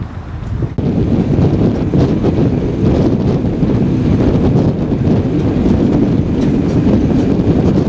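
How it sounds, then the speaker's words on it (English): A loud, steady rumble of a steam locomotive hauling a long train, mixed with blustery wind buffeting the microphone, continuous throughout. "That little steam locomotive has to do quite some huffing and puffing."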